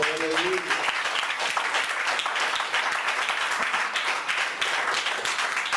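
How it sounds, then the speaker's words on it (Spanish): Congregation applause during a church sermon: sustained, dense clapping from many hands, fairly close and loud, holding steady for several seconds with a brief voice at the start. "Aplaude la Señora."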